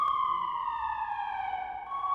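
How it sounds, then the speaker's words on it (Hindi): Sirens wail at a military base in Hamadan, Iran, a steady, slowly falling tone with layered harmonics. The sound carries from some distance and plays alone without talk. "सैन्य बेस पर लगातार जिस तरीके से सायरन बज रहे हैं"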